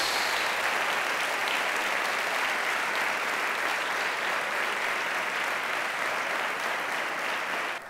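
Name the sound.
applause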